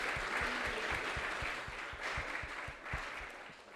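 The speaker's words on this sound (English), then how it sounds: "Let us all give a big round of applause to all these sponsors." A temple-room congregation applauds the sponsors, a sustained wash of many hands clapping at moderate volume, with a few louder rhythmic claps standing out near the front and no talk.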